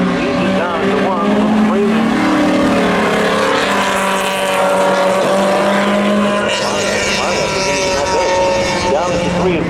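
Spectator drag racing cars at a Memorial Day thrill show launch together, engines roaring loud and continuous with rising and falling revs, while an announcer talks over them.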